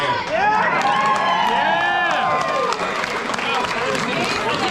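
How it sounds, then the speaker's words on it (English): Applause and cheering from the crowd at a drift racing drivers' banquet awards ceremony, a loud sustained burst of clapping and whoops with voices mixed in. "That's a round of applause for Nan."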